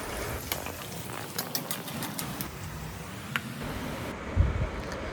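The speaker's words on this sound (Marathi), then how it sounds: "आता यात मी कढीपत्ता आणि शेंगदाणे टाकले आहेत शेंगदाणे व्यवस्थित भाजून घ्यायचे तेलामध्ये" Peanuts and curry leaves roasting in hot oil for poha chivda, a steady close crackling sizzle with faint clicks and a brief low thump near the end.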